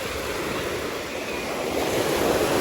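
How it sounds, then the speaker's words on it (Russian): Strong sea waves surging onto a fine-sand beach at a Turkish hotel, a loud continuous roar of surf building toward the end, with wind buffeting the phone microphone. "Волны очень сильные"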